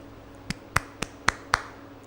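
One person clapping hands five times in a steady, fairly quick rhythm, each clap sharp, close and isolated against a quiet background with no talk.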